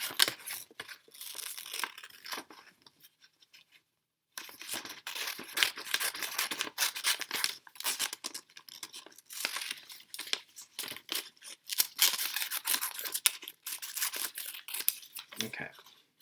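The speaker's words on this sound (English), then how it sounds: "Now I'm going to cut out my titles here." Scissors snip through paper while cutting out printed titles for a phonics lesson, a close, busy run of crisp crinkling cuts with a short pause near the start.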